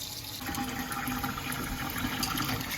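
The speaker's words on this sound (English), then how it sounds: "we want to make sure that the sink drains faster than the water flowing into it." Tap water runs steadily into a sink and drains away during a flow test in a home inspection, a constant close rushing and gurgle with no speech.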